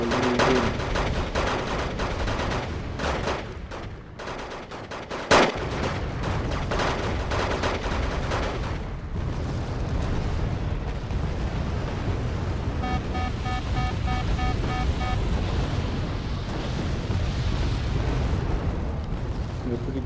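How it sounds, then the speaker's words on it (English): Continuous artillery fire and explosions from the strategy video game Wargame: Red Dragon, a dense, steady barrage of booms and gunfire with a sharp loud blast near the middle, filling the whole stretch without pause. "Pretty good artillery here to try and suppress the enemy. Lots of arty actually. It's constant firing."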